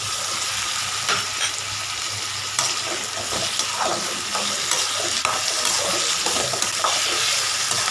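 Tomatoes sauté in a pan for a lotus stem gravy, a continuous crackling sizzle with repeated scraping strokes of a spoon stirring through them.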